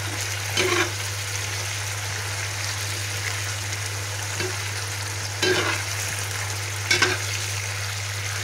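Steady sizzling of a fern stir-fry with oyster sauce in a pan, with a few louder scraping stirs of a utensil at irregular intervals, close up, with a constant low hum beneath.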